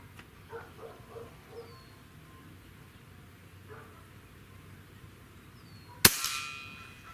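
Air Venturi Avenger .25 caliber regulated PCP air rifle fires once at a shotgun shell target outdoors: a single sharp, loud crack with a brief ringing tail near the end, after a quiet stretch with faint distant dog barks.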